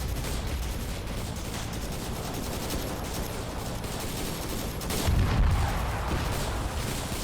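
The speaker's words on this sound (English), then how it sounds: "And they're using artillery to range shit in." Artillery and gunfire in a Vietnam War video game mod: a steady, dense wash of distant shots and rumbling blasts rolls on continuously, with a somewhat heavier thump partway through.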